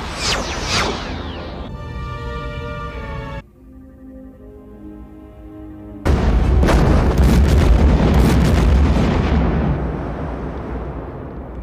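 A starship blown apart by weapons fire in a sci-fi space battle: a rushing burst with falling tones, a brief low lull, then a loud roaring explosion that swells and slowly fades, with no talk.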